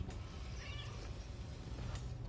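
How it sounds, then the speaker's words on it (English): A cat in the video game Death Stranding 2 meows a few times, the calls faint and brief over a steady low background hum, with no talking. "I want to meet the cat."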